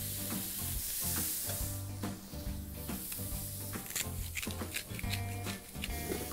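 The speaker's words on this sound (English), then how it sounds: "So all of this is going to hit the pan basically at the same time. In goes asparagus, ramsons, leek. Toss it around a couple of times." Asparagus, ramsons and leek tossed in butter in a hot pan, sizzling loudly with bursts of rattling and scraping as the vegetables are flipped, a close, busy frying hiss throughout.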